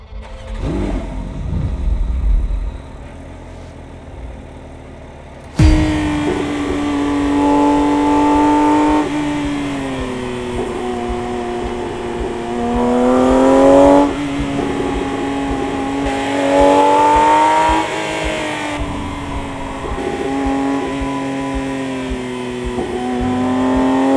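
A Porsche 911 ST engine starts with a sharp burst, then idles and revs in rising and falling sweeps, loud and close.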